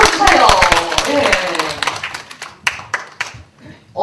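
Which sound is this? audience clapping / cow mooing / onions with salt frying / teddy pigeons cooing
audience clapping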